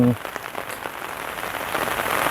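Rain falls steadily at an outdoor tourist spot in Phatthalung, Thailand, a dense continuous patter of drops on surfaces that grows slightly louder toward the end, with no talk.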